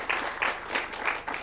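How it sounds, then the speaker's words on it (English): A short burst of clapping from a group at an event at State House, brief and moderately loud. "A clap for them."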